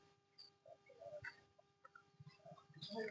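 Chickens kept under a protective net on a small rural homestead cluck faintly and at a distance, with scattered soft calls over a quiet background.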